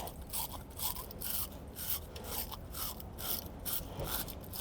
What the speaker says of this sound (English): And this is the other end of the battery brush. So just kind of come in here, clean out the insides.